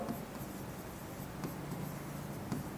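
Pen scratching across paper while working a quadratic equation, a soft continuous scribbling with faint strokes, close and alone without talk.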